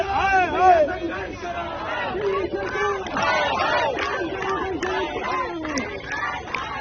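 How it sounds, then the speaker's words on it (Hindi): Crowd outside the Delhi Jal Board office in Chhatarpur shouting together, raised voices overlapping in rising and falling chants, close and loud throughout. "छतरपुर में दिल्ली जल बोर्ड के दफ्तर के बाहर इकट्ठा हुई इस भीड़ को गौर से देखिए।"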